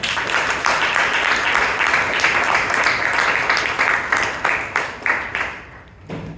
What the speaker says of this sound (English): Please give our Sergeant at Arms Imtiaz a huge round of applause